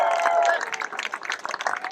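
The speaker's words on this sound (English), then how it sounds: "Huge round of applause for Zeke." An audience at an air show VIP reception applauds, a burst of many hands clapping that starts full and thins into scattered, uneven claps within two seconds.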